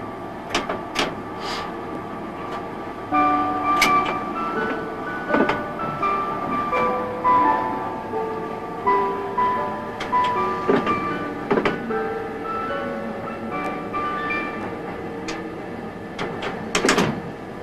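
A Super Hitachi express train departs, with a steady rolling rumble and motor tones rising in pitch as it gathers speed, plus sharp clanks and knocks along the way.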